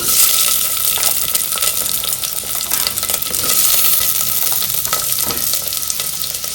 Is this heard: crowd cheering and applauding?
no